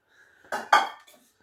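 Ceramic plates handed over and set down, giving two close clattering knocks in quick succession followed by a faint scrape.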